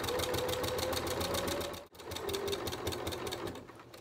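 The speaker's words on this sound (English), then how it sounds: "I'm going to stitch a little bit further forward, return it back, and then stitch off to the end." A sewing machine stitches a lapped zip into a cushion back, a fast steady mechanical chatter of needle strokes that stops briefly partway through, then resumes at the same even pace.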